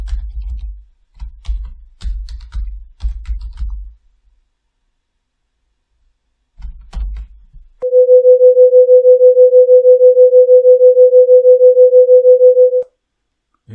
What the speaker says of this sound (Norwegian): Det pulserer. Det er et fenomen som kalles for svevning.